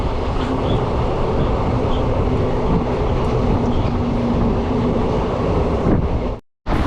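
A train runs along the rails on a long journey from Vijayawada to Jaipur, giving a loud, continuous rumble with wind buffeting the microphone that drops out sharply for a moment near the end.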